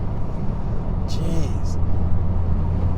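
A Dodge Hellcat being driven produces a steady low cabin rumble beneath close, loud conversation inside the car.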